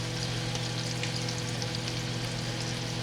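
Steady, close crackling sizzle of steaks frying in a hot pan, continuous and even throughout with no talking.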